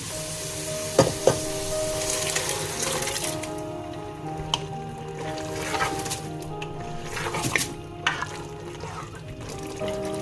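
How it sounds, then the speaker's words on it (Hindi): Water is poured into a hot pot of chickpea and potato curry (aloo chana). It hisses and sizzles, with a few sharp clinks and splashes over a steady frying crackle. No one speaks. "यहाँ पे आप थोड़ा सा पानी ऐड कर लें क्योंकि हमने इसकी ग्रेवी बनानी है।"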